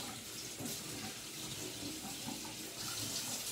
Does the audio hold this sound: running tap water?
yes